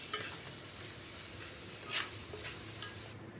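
A garlic tempering for mango pickle is stirred in a hot pan, a soft, steady sizzle with faint scraping and a couple of light utensil clicks, close and quiet.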